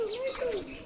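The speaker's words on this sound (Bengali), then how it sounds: "পরে দেখি কি যে না ময়না পাখির কথা বলে" A myna bird at a zoo gives a voice-like call with a few gliding, warbling tones in one brief burst, close by and fairly clear.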